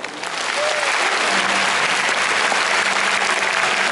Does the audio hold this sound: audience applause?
yes